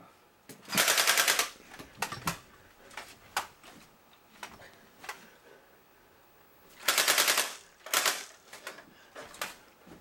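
Rapid gunfire bursts from a video game, two long loud volleys of automatic fire with scattered single shots between them, close and alone.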